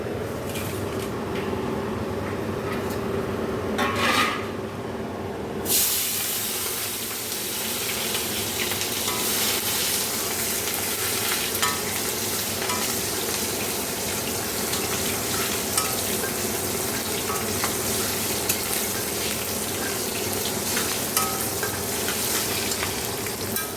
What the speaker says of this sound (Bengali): আমি কালো জিরে শুকনো লঙ্কা ফোড়ন দিয়ে দিয়েছি।